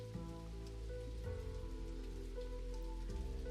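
Pouring rain falls in the visual novel Full Metal Daemon Muramasa, a steady wash of rain under sustained background music tones, with no voices.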